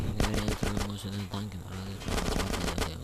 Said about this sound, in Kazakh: Балыстармен атысып жатыр.